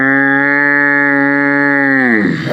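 A person imitating a cow, a single long, loud, steady moo held for about two seconds with a rich harmonic tone that sags and breaks into a rough, coughing-like ending.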